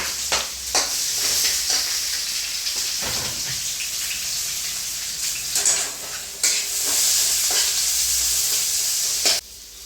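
Green chillies and softened onion sizzle and fry steadily in a pan, with a constant hiss and intermittent scraping stirs, all close and alone without any talk.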